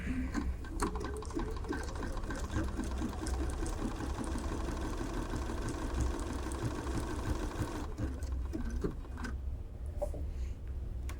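A Bernina computerized sewing machine stitches a decorative pattern at default size, a close, continuous rhythmic whirring hum of rapid needle strokes that stops near the end, leaving a few faint clicks.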